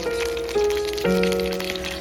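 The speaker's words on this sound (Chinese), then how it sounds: "鱼刚放进来的时候先不要动它，先把鱼煎至定型。" Steady sizzling and crackling of fish frying over medium heat in a pan, continuous and close, with faint tonal background music.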